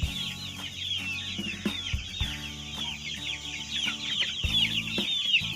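Farm chickens clucking while they forage outdoors, with steady overlapping clucks and the occasional louder call over a busy background of birds.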